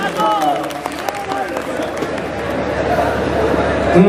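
A mushaira audience claps in a short, dense burst of applause mixed with crowd chatter, loud and continuous, with a speaking voice over it at the start.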